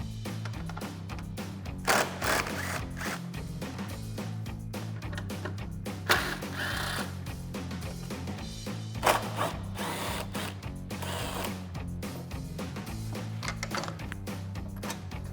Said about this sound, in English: I'm going to use a 10mm socket for the top and bottom 10mm screws